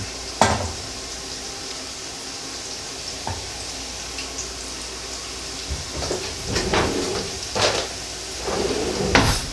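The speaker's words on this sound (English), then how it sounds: "So it's just sauteing." Food sautes in oil in a non-stick pan, a constant close sizzle with scattered clinks and scrapes of a plastic spoon stirring, no talking.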